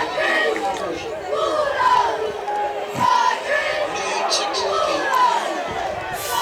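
A crowd at a Roane County versus Doddridge County high school football game roars and chatters loudly and continuously, with yelling voices rising and falling throughout.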